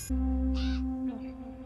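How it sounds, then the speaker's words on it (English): Crows cawing outdoors during a drum-themed game-show task, a couple of harsh calls over a steady low hum. "Oh, nice timing by the birds."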